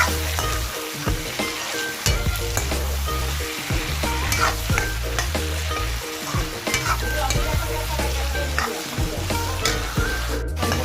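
Meat frying in a pan with turmeric powder while being stirred: a loud, continuous sizzle with busy scraping and clattering from the spoon, heavy low rumble underneath, no talk.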